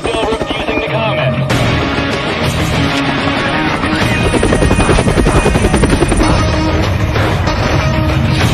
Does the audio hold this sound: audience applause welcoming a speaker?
no